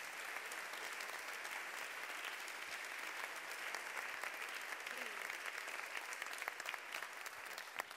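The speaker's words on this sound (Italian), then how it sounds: "Prolunghiamo questo applauso per dare il benvenuto a Emma Dante" Audience applause welcoming a guest onto the stage at a theatre tribute event in the Italian Senate, steady and sustained throughout, moderately distant and filling the hall, with no voices over it.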